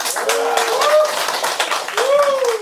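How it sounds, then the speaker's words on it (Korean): Audience claps for a lawmaker at a Democratic Peace Party leadership and regional chairs training session, a steady patter of hands close by, with voices talking loudly over it throughout. "씩씩한 박지현 의원님께 큰 박수 다시 한번 부탁드립니다"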